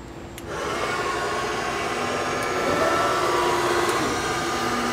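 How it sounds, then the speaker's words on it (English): Spindle of a Republic/Lagun KMC 717 3-axis CNC knee mill spinning up and running, a steady whirring hum with a slight whine that settles to an even level, with no talking. "The spindle sounds good."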